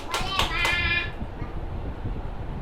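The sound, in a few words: children clapping hands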